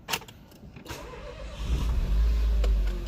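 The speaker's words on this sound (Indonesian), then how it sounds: "kita tekan start stop engine button yang ada di sini untuk menyalakan mesinnya" Renault Captur 1.2 Turbo TCe120 petrol engine with EDC gearbox, 2016, starting at a push button: brief clicks, then the starter catch and a low engine rumble that swells and settles into a steady idle, heard close without talk.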